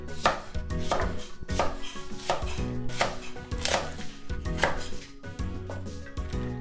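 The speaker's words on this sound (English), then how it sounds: "And the scallion, I'm also going to cut it diagonally so it has a nice shape." A kitchen knife slices scallion diagonally on a cutting board, a steady run of crisp, close chops about two per second, with no talking.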